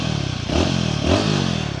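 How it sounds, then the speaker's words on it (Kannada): Royal Enfield Himalayan 450 motorcycle exhaust note, a close, loud, throbbing engine burble with two short blips of revving. "ಎಕ್ಸಾಸ್ಟ್ ನೋಟ್ ಕೇಳಿ"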